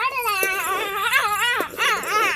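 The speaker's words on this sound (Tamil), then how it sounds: "நம்ம நாய்க்குட்டி என்ன பண்ணுது அங்க பாரு." A puppy whimpering close by, a string of high wavering whines and yips that rise and fall in pitch, with a brief dip before the cries resume.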